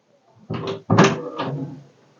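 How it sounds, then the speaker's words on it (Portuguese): A door is pulled open in a room where a sermon is being given, producing a couple of close knocks and a creaking scrape over about a second, with no talking. "eu vou ter que abrir essa porta um pouquinho"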